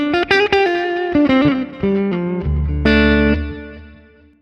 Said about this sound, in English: Dynamic delay, stereo delay, digital delay with mod.